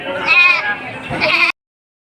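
A goat bleats loudly and close up at a livestock market in Padre Garcia, Batangas, two wavering cries in quick succession, then the sound cuts off abruptly.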